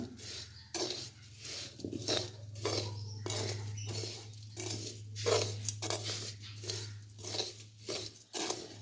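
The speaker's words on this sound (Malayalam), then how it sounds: "ഇനി ഇത് രണ്ടും നല്ലതുപോലെ ഒന്ന് യോജിപ്പിച്ചെടുക്കണം." A spoon stirs salt and other ingredients together in a bowl, producing steady rhythmic scraping and clinking strokes over a constant low background hum.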